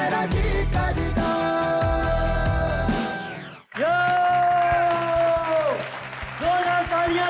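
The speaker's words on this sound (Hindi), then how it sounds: "जोरदार तालियां" Applause and cheering from an audience swell over loud music with sustained sung tones, then the music carries on with the crowd still audible.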